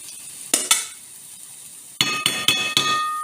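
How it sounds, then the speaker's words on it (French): Pumpkin seeds tossed into a hot frying pan, with a few sharp clinking hits and bursts of crackling sizzle, close and fairly loud with no talking. "On envoie tout ça pour les faire griller. Donc là, au bruit, t'as fait chauffer ta poêle."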